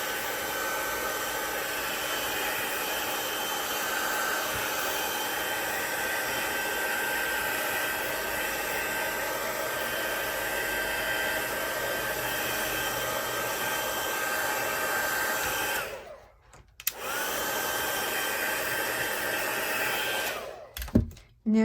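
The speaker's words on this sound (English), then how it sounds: "So let's turn the heat tool on." A craft heat tool blows hot air in a loud, steady, close whoosh for about fifteen seconds, cuts out briefly, then resumes and shuts off near the end.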